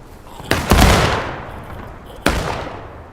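Gunfire and cannon blasts in a video game battle: a sharp shot, then a heavy booming cannon report rolling off over a second, and another sharp shot near the end, loud and close.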